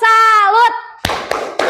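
A fifth-grade class performs a rhythmic group clap routine: a teacher's voice calls out first, then three sharp, loud unison claps follow at uneven intervals.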